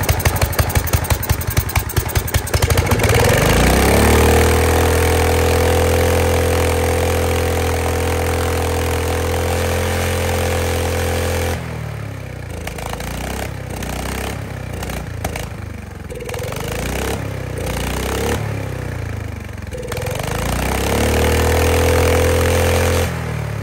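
A Honda G300 engine with a badly gummed carburetor and a non-working throttle rattles through several pulls, then catches and runs at a steady loud drone, dips into rougher uneven sputtering midway, and settles back to a steady run near the end.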